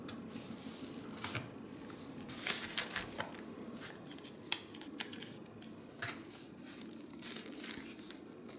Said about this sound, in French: Je plie la crosse.